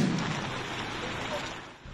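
Heavy rain pours steadily over Davao City streets, a dense continuous hiss with a low rumble beneath, constant in level and briefly dipping near the end.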